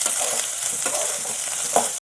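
Tempering of lentils, crushed garlic, onion, dried red chilies and curry leaves crackling in hot oil, a dense continuous sizzle with faint stirring scrapes, ending abruptly.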